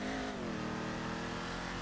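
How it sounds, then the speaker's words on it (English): Vapid Dominator ASP muscle car in GTA 5, engine held at a loud steady drone with a slight pitch drop, alone and close. "you can also rip the handbrake, floor it, and counter steer"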